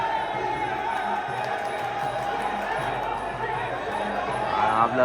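A crowd cheers at a Muay Thai fight, a continuous roar of shouts and chatter rising toward the end, with a commentator talking over it.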